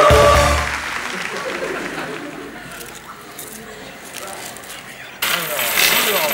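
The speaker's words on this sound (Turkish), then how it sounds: "Emre Can Polat'a bir alkış" Audience applause breaks out loudly at the start of a Turkish comedy show, fades into a softer crowd murmur, then swells sharply again near the end.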